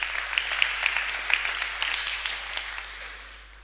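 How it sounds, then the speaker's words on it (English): A conference audience gives a round of applause during a music-theory talk: a moderate patter of many hands clapping at a distance, tapering off toward the end. "Give a round of applause."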